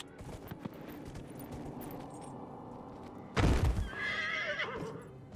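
A horse in the video game Dragon Age: Inquisition gives a loud, sudden whinny with hoof clip-clops and a thud, heard over a busy game soundscape.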